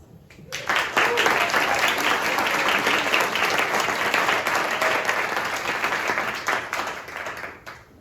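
A seated audience applauds to welcome panel participants on stage, steady loud clapping filling about seven seconds before tapering off at the end.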